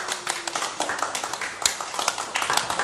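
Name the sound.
clapping, applause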